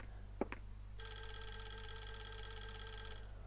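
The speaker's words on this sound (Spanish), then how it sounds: "Está sonando un teléfono y no me gustan esas cosas" A telephone rings in the horror video game Clock Tower: First Fear, a steady electronic ring that sounds alone for about two seconds after a couple of brief knocks.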